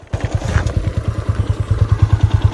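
A motorcycle rides through foggy mountain forest near Mussoorie with a rapid, even engine thump running close and loud for the whole moment, with light clatter on top and no talking.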